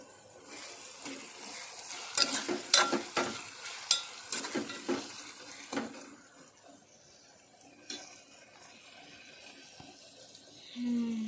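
Cooked curry being stirred in a pan gives a burst of clattering, scraping spoon strokes with faint sizzling beneath. The strokes fade into quieter background noise toward the end.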